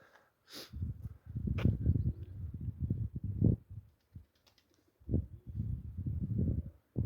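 Pigeons coo in low, throaty bursts with short pauses between them. The birds are close and steady, and there is a faint chirp early on.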